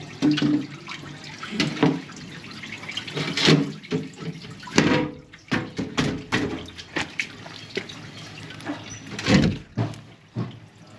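Water from a running hose pipe flows through a manhole in a sewage-flooded courtyard, heard as irregular splashing and gurgling surges with brief louder bursts.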